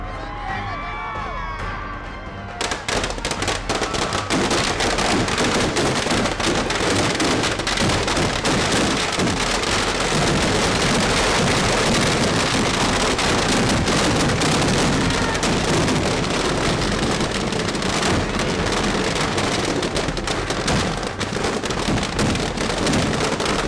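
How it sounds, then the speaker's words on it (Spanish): A huge barrage of fireworks and firecrackers bursts at a New Year's effigy burning of the old year packed with gunpowder, starting abruptly after a quiet moment and then roaring as a loud, continuous crackling wall of explosions. "Escuchemos cómo tronó debido a la gran cantidad de pólvora."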